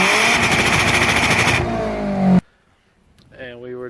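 BMW car engine revving hard at close range, a loud sustained roar climbing in pitch for over two seconds before cutting off abruptly, followed by a short quiet gap and a voice starting to speak.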